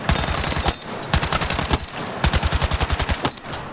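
Loud close bursts of rapid automatic fire from the UMG in Battlefield 6, several short strings of evenly spaced shots separated by brief pauses.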